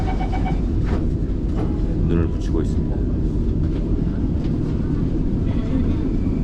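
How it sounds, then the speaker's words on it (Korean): Steady low rumble and rattle of a Singapore subway car in motion during the morning commute, with a quiet voice speaking over the continuous train noise. "출근 시간에 지하철 내부입니다."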